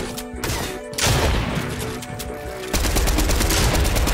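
Shotgun fire rings out in a video game, loud and close, in rapid blasts with dense crashing impacts that swell in two surges. There is no clear talking.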